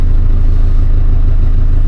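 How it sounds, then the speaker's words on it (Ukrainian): An MTZ 1025.2 tractor engine pulls a Hermes 2.7 disc harrow through wet soybean stubble, giving a steady, loud low rumble with mechanical clatter and no talk. "Трактор вже буксувати почав."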